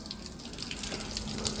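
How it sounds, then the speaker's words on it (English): Water runs steadily out of a water heater during a heating element replacement, a close, continuous splashing trickle with a few brighter drips and gushes, and no talking. "Why is there water still coming out of here?"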